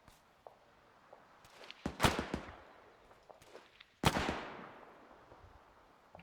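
Distant gunfire during a road patrol in the military game Arma, two sharp cracking reports with echoing tails and a few faint scattered pops in between over a quiet background.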